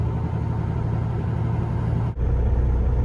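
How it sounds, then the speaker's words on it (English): A tractor-trailer truck engine held at raised revs to build air brake pressure, a loud steady low rumble with a brief dip near the end, no talk. "We're going to build up some RPMs to get that governor to purge a little quicker"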